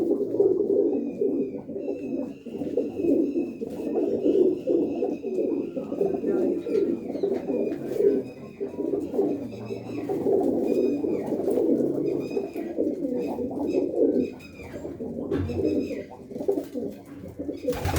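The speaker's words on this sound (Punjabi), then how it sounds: "ਇਹ ਜਿੰਨੇ ਕਬੂਤਰ ਨੇ ਇਸ ਟਾਈਮ ਤੁਸੀਂ ਦੇਖ ਹੋ" Pigeons coo steadily in a dense, overlapping chorus at a loft in Lohakhera, with occasional higher bird chirps over the top and no talking.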